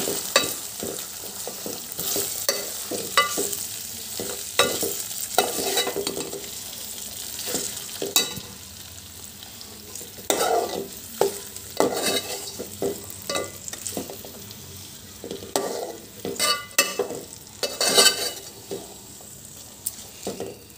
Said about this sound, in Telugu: కీమా కొంచెం ఫ్రై కావాలి.